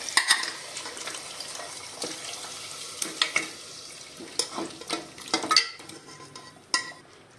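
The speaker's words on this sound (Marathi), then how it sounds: "हे शिजवलेले पाय घालूया।" Cooked mutton trotters are stirred into frying masala in a pot, giving a low crackling sizzle broken by uneven scraping and knocking strokes, fairly close and without any talk.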